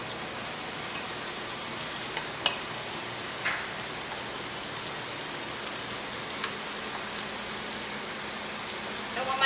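Four ounces of butter melting in a pan for pastry cream give off a soft, even, continuous hiss, with a few faint ticks and pops scattered through.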